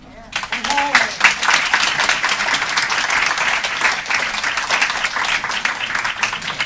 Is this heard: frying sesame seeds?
no